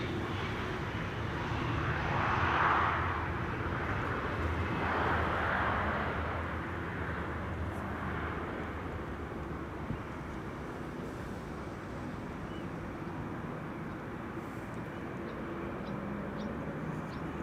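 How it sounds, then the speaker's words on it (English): KLM Boeing 777-200 airliner, registration PH-BQC, arriving at Amsterdam Schiphol after a long flight from San Jose: a broad, steady jet engine roar at moderate distance, swelling slightly early on and then settling into a constant rumble with no talk. "This is KLM flight 760, arriving from San Jose. 777-200"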